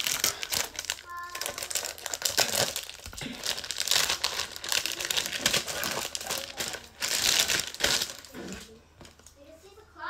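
Lumpia wrappers crinkle and rustle close by as they are folded around an eggplant filling, with irregular papery crackles and soft taps under ongoing talking.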